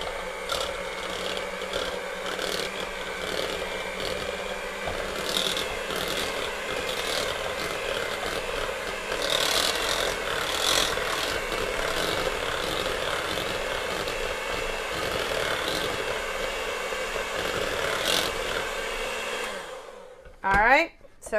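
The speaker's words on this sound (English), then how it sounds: "I'm going to run my electric mixer to mix it up" An electric mixer whirs steadily while mixing a shrimp dip, a continuous close motor drone with faint scraping against the bowl, cutting off abruptly near the end.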